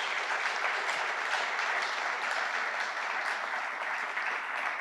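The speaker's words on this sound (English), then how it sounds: "Let's give them a round of applause." An audience at a public announcement event claps together in a steady, dense round of applause that carries evenly for several seconds at moderate distance.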